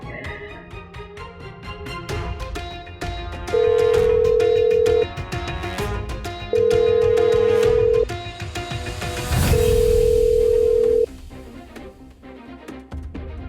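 A steady tone sounds in three long, evenly spaced beeps over loud background music, like a phone line ringing out with no answer.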